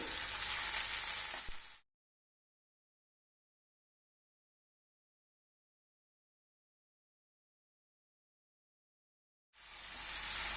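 Half a kilo of finely chopped tomatoes hits a pan of frying fenugreek leaves with a loud, close sizzle that cuts out to silence for several seconds, then resumes just as strongly.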